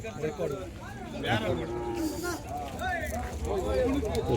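Cattle at a busy village cattle market, lowing moos rising over a crowd of people talking nearby, with some hoof shuffling.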